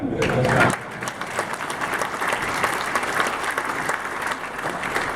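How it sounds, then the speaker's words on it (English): A conference audience applauds a governor's keynote address, sustained steady clapping filling the room after a brief moment of speech at the start. "You should clap again for that."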